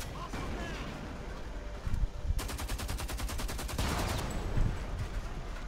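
Gunfire in the first-person shooter Homefront: The Revolution during a co-op mission on an enemy base, with a rapid burst of automatic shots in the middle over steady game ambience and a few scattered single shots.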